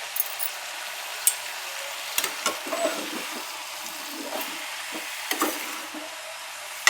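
Brinjal with red chilli and fresh coriander sautés in a hot pan, a soft sizzle under repeated light clacks and scrapes of a spoon stirring at an uneven pace, close and unvoiced.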